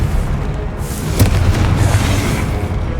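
Fiery Confringo spell explosion in the Hogwarts Legacy video game, a dense booming blast with a sharp burst near the middle over a continuous rumbling roar, loud and close.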